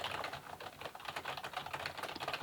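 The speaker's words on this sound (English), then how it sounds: "I'm going to be trying to type" Fingers type quickly on an RK400 LED gaming keyboard, producing a dense, close run of soft key clicks and taps with no speech.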